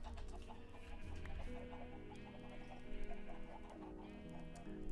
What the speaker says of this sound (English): And here's the Cold Chickens.